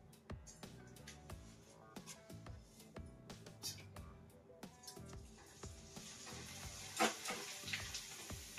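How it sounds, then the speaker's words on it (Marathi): Thin potato chivda shreds fry in hot oil, a steady bubbling sizzle with scattered crackles and sharp clinks of a utensil against the pan, growing busier and louder toward the end. "चिवडा तळून काढून घ्यायचा आहे"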